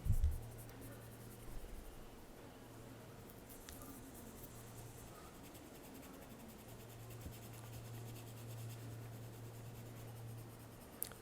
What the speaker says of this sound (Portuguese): Comecei a colorir ali com o lápis da Tris mesmo.